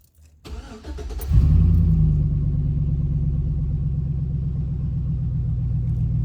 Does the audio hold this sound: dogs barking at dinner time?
no